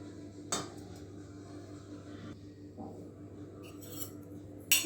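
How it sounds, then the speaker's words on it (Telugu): Two eggs cracked one after another against a bowl edge while an omelette is being prepared, giving a few sharp clinks and taps over a steady low kitchen hum, with a brighter knock at the end. "రెండు ఎగ్స్ వేసుకున్నాను ఫ్రెండ్స్."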